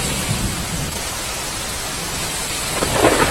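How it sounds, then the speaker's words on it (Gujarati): Heavy monsoon rain pours down in Una, Gujarat, a steady loud roar of downpour with a deep thunder rumble underneath that swells near the end. "વ્યાજપુર અને દેલવાડામાં પણ ધોધમાર વરસાદ શરૂ થયો છે"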